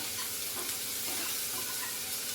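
Spinach chutney ingredients fry gently over a low flame, giving a soft, steady sizzle and hiss with faint stirring, heard alone without talk.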